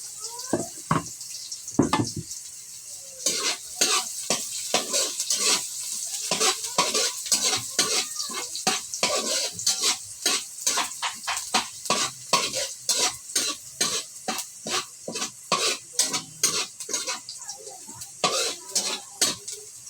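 Hotdog frying in a pan with onion and garlic, a constant sizzle broken by rapid rhythmic scraping strokes of a spatula against the pan, close and continuous.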